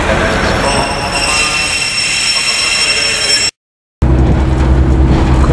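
A Pacer railbus rumbles along the rails toward Sunderland with a metallic whine and clatter, cut by a brief silence before the rolling noise resumes, louder and lower.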